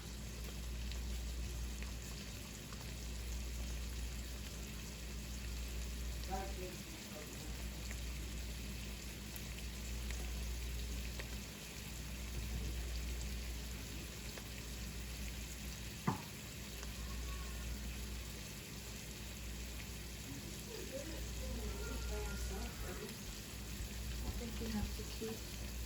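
Ground meat frying in a pan for dirty rice, a steady close sizzle that runs without a break, with faint clatter now and then.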